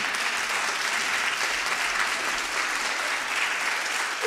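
Sustained audience applause at the Women Political Leaders Summit for Mary Robinson, a dense, steady wash of many hands clapping that holds evenly loud for the whole stretch.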